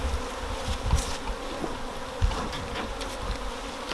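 Honeybees swarm around an open hive during a colony inspection, a close, dense buzzing with individual bees zipping past the microphone and occasional handling thumps.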